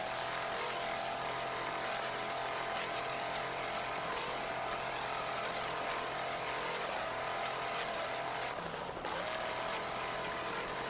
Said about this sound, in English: That 650 horsepower Mercury engine sounds excellent as Wide Open makes its way through the lake.